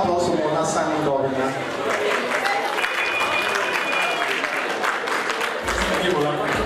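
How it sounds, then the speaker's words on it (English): An audience at a UK community association convention breaks into steady applause and cheering, with crowd chatter and voices mixed in throughout. "A round of applause for Mona Simon Gobina."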